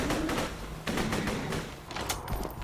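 Hyperion SMG gunfire in Borderlands 2 on Xbox One: several quick bursts of rapid shots, close and punchy, separated by short pauses.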